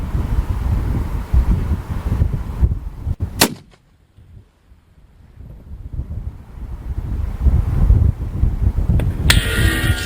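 Strong, buffeting wind roars across the microphone at an outdoor long-range rifle range, dropping briefly to a near lull midway before gusting back up loudly; a sharp crack sounds just before the lull.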